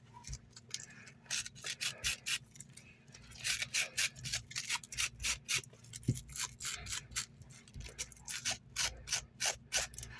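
Quick repeated brushing strokes fluff crocheted amigurumi yarn on a realistic sausage toy, working around the mouth area; soft, close scratchy bursts in a steady rhythm, with no speech.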